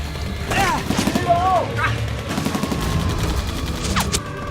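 Gunfire in a Vietnam War film battle as Viet Cong forces pound an American base: dense bursts and scattered shots under a continuous battle din, with voices shouting and talking over the action.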